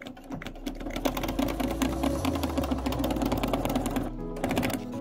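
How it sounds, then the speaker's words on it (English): A sewing machine stitches steadily back and forth across a quilt, with a fast, continuous mechanical whirring and needle chatter that holds close and even throughout, briefly easing near the end. "I like to go back and forth once or twice just to kind of lock that stitch in"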